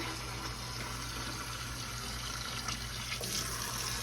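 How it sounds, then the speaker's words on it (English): Steady stream of water pouring into a cooking pot, a continuous rushing splash heard close up, with a low hum underneath. "Now we're gonna put water in here."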